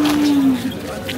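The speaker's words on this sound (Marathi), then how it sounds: "एकदम मोठ्या मापाचा बैल आहे" A large Khillar bull at the Sangola cattle market gives a short low moo, loud and close, with a steady held tone under crowd noise.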